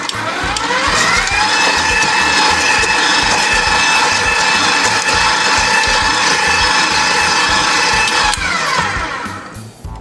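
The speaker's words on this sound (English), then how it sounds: "We decided to pulse it for a few times until it gets nice and crumbled." A food processor whirs loudly and continuously as it pulses Oreo cookies into crumbs, a steady motor drone with grinding texture that winds down near the end, with no talking.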